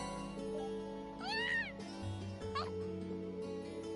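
A cat meowing in the Trails of Cold Steel video game: two short, rising-falling meows about a second apart over steady background music, close and clear.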